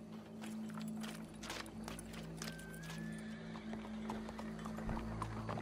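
Horse in Red Dead Redemption 2, its hooves clopping in a steady walking rhythm while a neigh rises briefly partway through, fairly faint over low background ambience.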